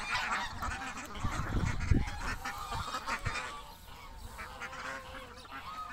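Geese honk on a Kuwaiti duck farm, a flurry of loud nasal calls overlapping up close, easing into softer, scattered honks and quacks toward the end.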